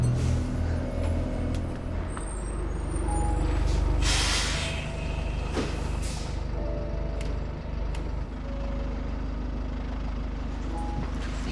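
A bus idles and pulls in with a loud hiss of its air brakes near the middle, over a steady rumbling engine and street noise. No one talks.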